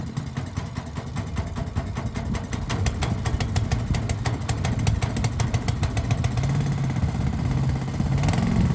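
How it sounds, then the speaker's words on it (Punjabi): A petrol engine water pump, 2 to 2.5 inch, runs with a steady, rapid mechanical chug, loud and close throughout, with no talking. "ਇਹ ਪੈਟਰੋਲ ਇੰਜਨ ਤੇ ਆ ਪੈਟਰੋਲ ਇੰਜਨ"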